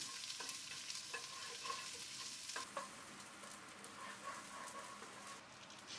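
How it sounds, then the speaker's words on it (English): Sliced shallots fry with whole spices in a pot for crab pulao, a soft, steady sizzle with occasional stirring scrapes, faint and close. "Then add the sliced shallots into the pot and fry for 3 to 4 minutes."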